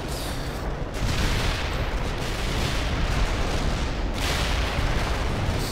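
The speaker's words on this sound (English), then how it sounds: "This is a game for people who like explosions." Loud, dense rumbling explosions and booming blasts roll continuously in a World in Conflict: Soviet Assault battle, with heavier bursts layered over a constant roar.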